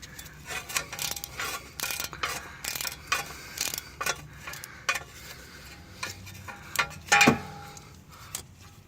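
A ratchet working a 10 mm bolt on the ABS sensor bracket of a 2011–2015 Hyundai Sonata during passenger-side CV axle replacement, giving repeated short clicking bursts close by with a sharper metallic clunk near the end; no talking.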